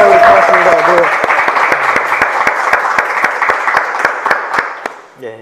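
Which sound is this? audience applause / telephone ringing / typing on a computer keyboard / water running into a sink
audience applause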